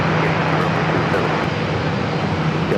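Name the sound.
American Airlines Boeing 737-800 at San Diego airport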